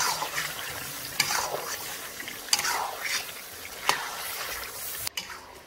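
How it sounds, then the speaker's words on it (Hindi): Chicken fries in a karahi with green chillies as the water cooks off, giving a close, steady sizzle broken by several sharp scraping stirs of the spatula against the pan. "यहाँ पर पानी जो है खुश्क हो चुका है तो अच्छी तरह भून लेना चिकन को"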